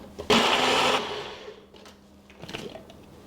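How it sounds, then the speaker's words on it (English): A blender blitzes chipotle, cilantro, lime juice and salt into a salsa in a short loud burst of under a second, then fades into low clattering and small handling noises nearby. "We're gonna blitz this up."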